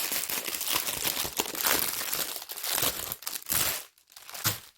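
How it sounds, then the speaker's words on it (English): Plastic packaging around a Diamond Art Club painting kit being crinkled and torn open, dense loud bursts of crackling with brief pauses and a final crinkle, close up and without talk. "in case you don't like the crinkling plastic, hold your ears closed for just a few seconds"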